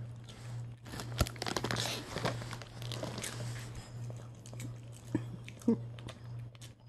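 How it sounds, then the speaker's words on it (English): A young child crunches and chews popcorn close up in irregular bursts of crunches over a steady low hum, with a voice speaking at times. "Sophie, you eating some popcorn?"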